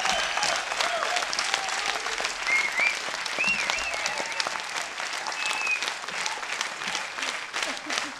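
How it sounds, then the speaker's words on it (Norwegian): An audience applauds at a jazz concert in Trondheim, steady dense clapping throughout with a few faint whistles and cheers mixed in. "Da klapper vi."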